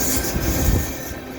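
A westbound CN mixed freight train of tankers and cars rolls past at Dorval in winter with a steady broad rumble and faint wheel hiss, alone without voices.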